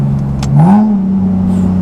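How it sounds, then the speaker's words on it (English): Supercharged Nissan 370Z engine pulling at quarter throttle in fourth gear, a loud steady mid-pitched drone whose tone rises briefly then holds, heard from inside the car with no talk. "Just a little quarter throttle 4th gear pull. It's got a really good sound to it."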